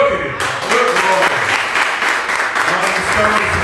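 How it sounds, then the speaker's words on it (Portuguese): A congregation applauds during a Sunday church service, dense sustained clapping that swells in after a brief opening, loud and close, with some voices mixed into the clapping. "Aplauda o Senhor, querido."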